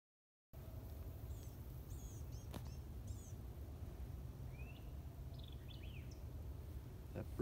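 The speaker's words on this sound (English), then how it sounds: "that bird we just heard singing was a white-eyed vireo." A white-eyed vireo sings a few short, quick, high chirping phrases, faint and somewhat distant over a steady outdoor hum on a Texas Hill Country nature trail.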